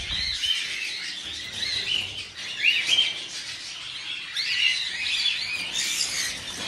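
Many small birds chirp and tweet busily at close range, calls overlapping without a break and no voices over them.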